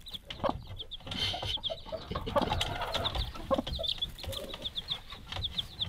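A mother hen with three small chicks in a coop in the far north, soft low clucks under a steady run of high, rapid chick peeps, close and continuous.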